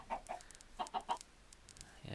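Minecraft chickens cluck in short, separate bursts, several quick clucks at moderate volume with pauses between them, alone without talk.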